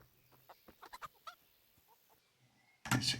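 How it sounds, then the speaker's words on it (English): Chickens in a video game give a series of short clucks, several quick bursts in irregular rhythm at moderate volume, followed by a louder burst of noise at the end. "Chickens."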